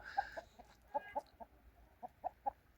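Faint chickens cluck in short, irregular bursts at a moderate distance, with a quiet background.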